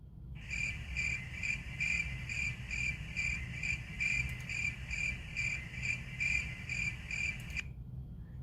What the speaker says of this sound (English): that's a lot of crickets.